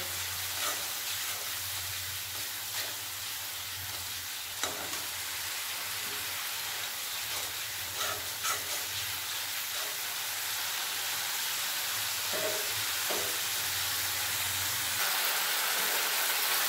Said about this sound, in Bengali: দিয়ে দেবো লবণ আর দেবো হলুদের গুঁড়ো, ভালোভাবে কষিয়ে নেব।